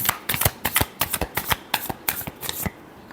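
Tarot cards shuffled by hand in a quick, close series of crisp slaps and riffles, about a dozen distinct bursts in rapid rhythm with no talking.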